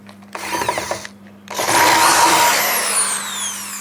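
A Dongcheng DJZ10-10 electric drill whirs briefly, stops, then runs again in a longer, louder steady whine as the bit bores through the workpiece, close up and alone.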